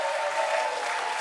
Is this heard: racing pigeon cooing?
no